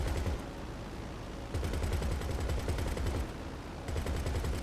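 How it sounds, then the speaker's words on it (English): Rapid automatic gunfire in the video game GTA Online, steady bursts of loud shots repeating in quick rhythm for several seconds, close and continuous with brief shifts in intensity. "Oh, I'm shooting him."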